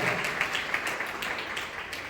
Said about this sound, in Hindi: आइए जोरदार तालियां बजाएं परमेश्वर के लिए।